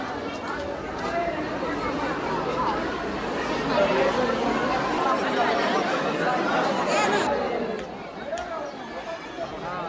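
A thick crowd chatters at a temple, a continuous babble of many overlapping voices at moderate loudness with occasional laughter, thinning slightly near the end.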